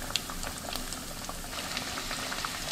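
A pork cutlet bubbles and crackles in hot oil, a continuous close sizzle with frequent small pops and spits, and no voices.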